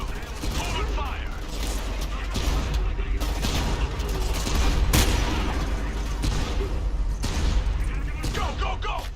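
Sustained gunfire and booming blasts rattle through a video game campaign battle fought to protect a Goliath from RPG attacks, with shouted voices over the steady clatter.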